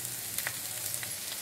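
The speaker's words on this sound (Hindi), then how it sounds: "आलू को अच्छी तरह से भून लेंगे।" Mashed boiled potatoes with turmeric and salt frying in a pan for poori bhaji, a steady close sizzle with a few soft stirring scrapes.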